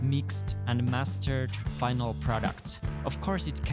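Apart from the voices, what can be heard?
No everyday noises stand out.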